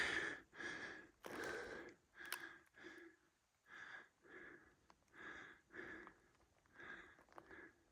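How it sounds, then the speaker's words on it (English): Heavy, rhythmic panting after a steep hiking climb, close to the microphone, a dozen or so labored breaths in and out with a wheezy, effortful quality. "Excuse the heavy breathing."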